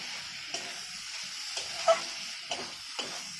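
Pre-fried potatoes are sautéed in oil for a curry, producing a soft, continuous sizzle. Occasional stirring knocks and scrapes of a spoon break through it.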